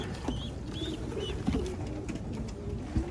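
Pigeons coo repeatedly in low, throaty phrases, with a few higher chirps from other birds in the background.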